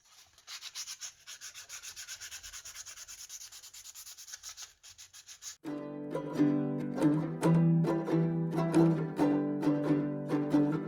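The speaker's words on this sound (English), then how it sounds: "Now it's time for sandpaper." Sandpaper rubs back and forth across a small wooden tree ornament in steady, close, dry strokes for about five seconds before music takes over.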